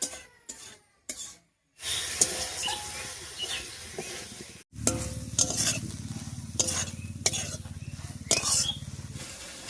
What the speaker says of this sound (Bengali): এবার একটুখানি মশলা বাটা জল দিয়ে কষিয়ে নেব